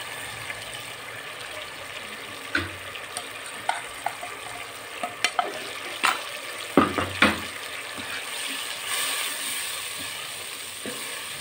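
Spices and tomato fry in a pan for creamy daal mash, a soft steady sizzle broken by scattered stirring clicks and scrapes, with a few sharper knocks near the middle; no one talks.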